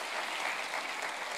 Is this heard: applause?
yes